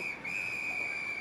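A sports whistle drifts over from a school PE class, one sustained, shrill blast held steady for about a second, fairly faint and distant.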